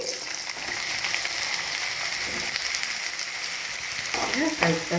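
Cut spiny gourd (boda kakarakaya) pieces fry in hot oil with a steady, dense sizzle that holds at an even level throughout, with a few faint clinks near the end.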